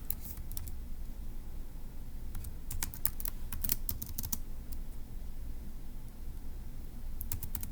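Someone typing on a computer keyboard, light scattered clicks coming in short bursts with pauses between, close and fairly soft over a quiet room background.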